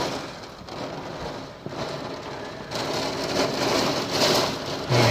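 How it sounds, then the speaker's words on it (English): Steady rain patters against window glass during a storm, a dense hiss that swells louder midway through, with gusts of wind and no voices. "You hear the rain hitting the windows."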